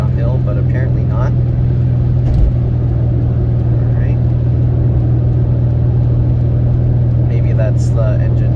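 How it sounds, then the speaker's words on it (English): A 2003 Toyota Prius engine runs steadily while the car rolls downhill, a constant low hum and drone with road rumble, continuous and close throughout with no pauses. "So going downhill, the engine is actually running a little fast."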